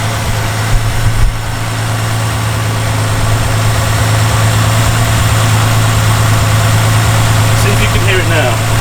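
A Reliant engine idles steadily up close, with a metallic tappet clatter from the valve gear over a constant low drone and no pauses throughout.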